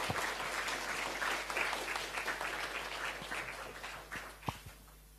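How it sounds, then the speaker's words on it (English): Audience applause welcoming a university president to the podium at an academic lecture on the social sciences, a steady wash of clapping that holds for several seconds and thins toward the end. "Give him a big applause"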